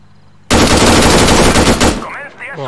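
Loud close machine gun fire in the military shooter Arma 3, a dense rapid burst lasting over a second that cuts off abruptly, followed by a shouting voice.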